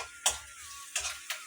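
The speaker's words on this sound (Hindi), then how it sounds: "और ये लहसुन को भी पहले भून रहे हैं" Garlic fries in a pan, a quiet sizzle with three brief scraping stirs, the spoon tapping the pan in between.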